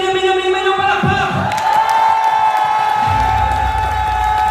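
An audience at a stage event bursts into loud applause and cheering, a continuous close wash of clapping with shouts and whoops.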